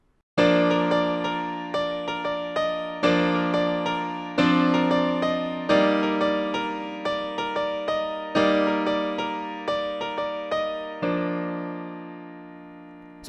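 Solo piano playing the chorus guitar riff of a song, full chords struck in a steady repeating rhythm with a ringing sustain, close and clear, ending on a held chord.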